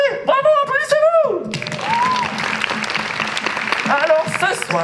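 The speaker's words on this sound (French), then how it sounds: "Bravo, applaudissez-vous." Audience applause at a Telethon 2022 stage show swells into a dense, steady roar of clapping that carries on for several seconds, with a voice talking over the start and again near the end.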